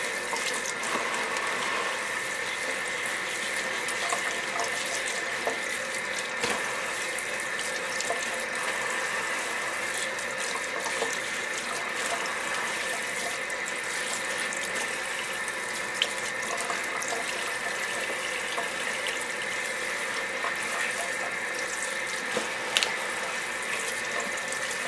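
Escarole greens rinsed under a running kitchen tap, a steady broadband rush of water splashing into the sink with faint handling clicks and rustles throughout, no talking over it.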